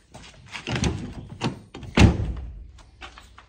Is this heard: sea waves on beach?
no